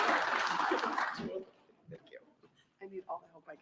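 Applause from the audience at an industry outlook forum fills the first second and a half, a dense burst of many hands that then fades out. Speech follows.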